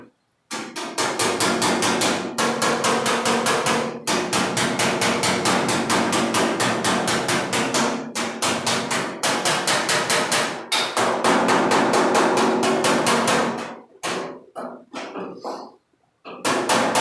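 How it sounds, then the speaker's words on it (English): A hammer and dolly tap out a low spot in a car body panel during bodywork, a rapid, steady series of sharp metallic taps in several long bursts with short pauses, close and loud. "you can put your dolly on the back of this low spot, and you can tap around it"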